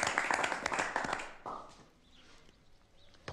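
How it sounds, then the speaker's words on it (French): An audience claps at a French history talk, with a dense burst of applause that fades out after about a second and a half, leaving a quiet room. "Pourquoi vous applaudissez?"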